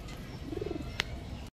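Domestic pigeons at a pigeon seller's give a single soft, rolling coo up close, followed by a sharp click at the very end, with no talk.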